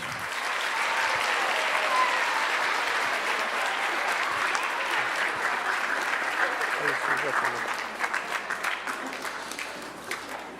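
Audience applause at a junior high school awards ceremony, a steady wash of many hands clapping across the hall that holds strong throughout and thins slightly toward the end, with faint voices mixed in.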